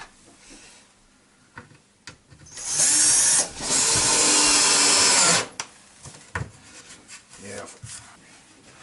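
Power drill driving screws into scrap wood for a rustic farmhouse dining table base, a loud sustained whirring burst of about three seconds standing out among quieter workshop knocks and handling sounds.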